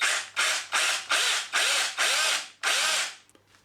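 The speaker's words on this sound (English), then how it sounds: "You then take the drill, and without the hammer action on, you then squeeze the trigger and make a hole through the plaster." An electric drill with hammer action off bores through wall plaster in about seven short, even whirring bursts with brief pauses between them, close up and alone.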